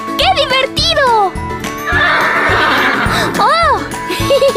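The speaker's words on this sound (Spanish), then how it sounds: "El caballo." A horse neighs loudly in two rising-and-falling whinnies up close, followed by a busy stretch of jingling and clattering and then a third whinny, with a voice briefly at the end.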